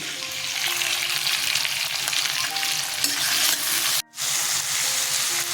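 Wet spice paste of turmeric, coriander and cumin ground with water hissing and sizzling loudly in a hot pan, a continuous dense crackle with a brief dip near the end.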